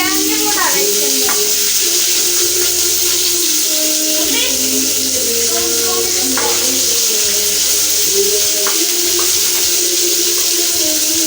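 A large onion fries in a pan with a loud, continuous sizzle close by, and occasional stirring scrapes and clinks punctuate it.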